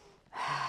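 One deep, audible inhalation taken in during a slow relaxation and breathing practice, starting after a brief pause and rising into a close, airy breath drawn through the nose and mouth.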